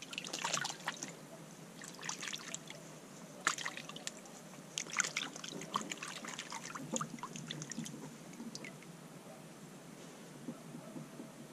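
A hand splashes and stirs shallow water to attract a mink, producing irregular close trickles, dribbles and small splashes that continue in scattered bursts.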